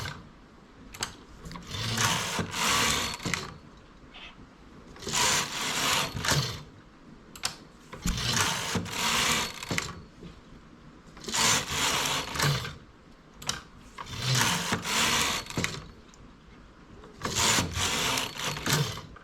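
A knitting machine carriage slides back and forth across the needles while making buttonholes, giving repeated rasping, clattering passes of one to two seconds each with short gaps, close up and with no talk.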